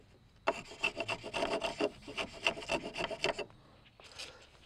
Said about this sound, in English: So I'm just going to work on planing this down.